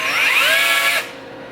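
A power drill spins under load for about a second, its high whine sliding in pitch, then cuts off leaving faint room noise.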